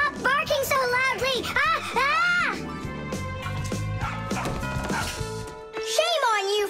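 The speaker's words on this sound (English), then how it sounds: "tell your rabbits that they can stop barking so loudly" Cartoon rabbits give loud, dog-like barks and yips in an animated children's show, rising over music and childlike voices, with a clatter midway.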